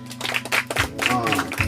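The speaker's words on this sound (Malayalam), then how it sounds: "എത്തിഹാദ് കൈയടിച്ചേ." A group of children at the Maramon Convention children's meeting claps their hands in a quick burst of sharp slaps, mixed with voices throughout.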